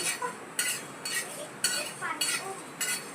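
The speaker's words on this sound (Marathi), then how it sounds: "अशी छान डाळ मी भाजून घेतली" Lentils (dal) being dry-roasted and stirred in a pan make rhythmic bursts of scraping and rattling, about six strokes in quick succession, close and fairly clear, with no voices.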